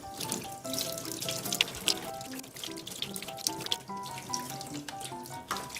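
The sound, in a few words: tap water washing off sea urchin remains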